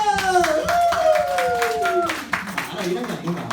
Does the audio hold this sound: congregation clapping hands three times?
yes